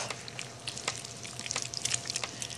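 Melted white chocolate mixed with vegetable oil and stirred in a bowl, producing soft, close, irregular wet scraping and clicking strokes with no voices.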